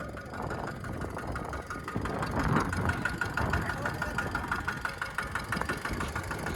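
A tractor engine idles with a steady, rough mid-range rumble that runs unbroken throughout, fairly close.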